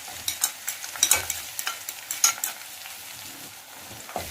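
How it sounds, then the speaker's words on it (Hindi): Garlic and green chillies fry in hot oil with a steady crackling sizzle, broken by a quick run of close spatula taps and scrapes against the pan, no voices. "थोड़ी देर तक इसे हम फ्राई करते हैं"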